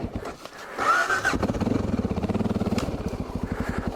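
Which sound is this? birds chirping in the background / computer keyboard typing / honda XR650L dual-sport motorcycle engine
honda XR650L dual-sport motorcycle engine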